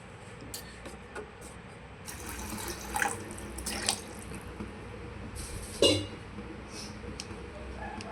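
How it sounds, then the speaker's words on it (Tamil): Water pours into a pan of sautéed drumstick leaf soup ingredients, a steady close splashing and trickling with a few louder sloshes and clinks, no voices. "இப்போ நமக்கு தேவையான அளவு தண்ணி சேர்த்துக்கலாம்."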